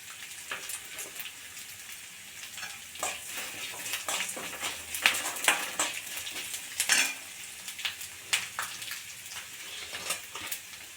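Fennel seeds, garlic and ginger sizzle in hot oil for a quick Tamil kuzhambu, with crackling spatters and clinks of a spoon stirring against the pan.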